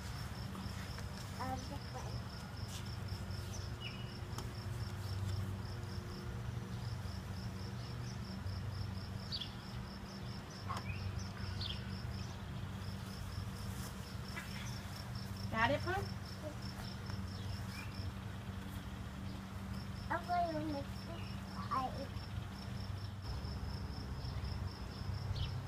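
Crickets chirp steadily outdoors in a backyard beside a playset, a faint continuous high trill under low background hum, with a few brief bird calls and distant noises scattered through.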